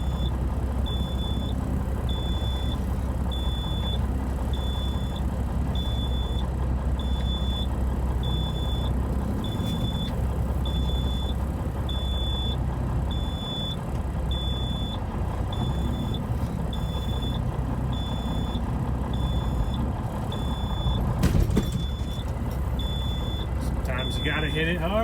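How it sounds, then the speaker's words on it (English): Steady, evenly spaced electronic beeps sound while a trailer's rear axle is lowered so a vehicle can get under it, repeating clearly over the low rumble of an idling engine. "Sorry about that beeping."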